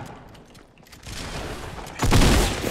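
Shotgun fire in Fortnite Battle Royale from an attacker rushing from behind, heard as a string of gunshots that builds to a loud, heavy blast near the end.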